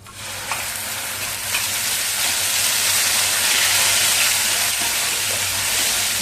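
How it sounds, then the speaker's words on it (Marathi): Ground garlic, green chili and ginger paste dropped into hot oil with bloomed cumin seeds, giving a loud, continuous close-up sizzle and hiss that swells slightly as frying settles in, with no voices. "हे लसूण मिरची आणि आलं वाटलेलं आपण तेलामध्ये घालून घेऊया"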